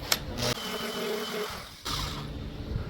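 Power saw plunge-cutting holes into a wooden box, a close whining motor drone that dips briefly and resumes, with a short clack at the start.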